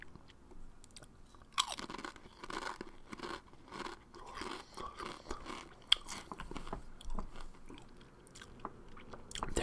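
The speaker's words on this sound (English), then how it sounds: "There's some Doritos. It's the dill pickle flavor" Close, crisp crunching and chewing of dill pickle flavor Doritos tortilla chips, with irregular bites and mouth sounds running steadily for several seconds without any talk.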